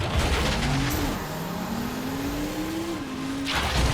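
A vehicle boosting in the video game Transformers: Revenge of the Fallen, a steady loud engine roar with the pitch climbing and holding high, with a sharp whoosh near the start and end.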